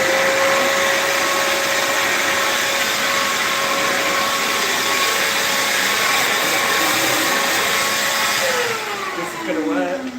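A homemade suction device runs with a loud, steady whine and rushing airflow, the tone sliding lower near the end as it winds down; no speech is heard over it.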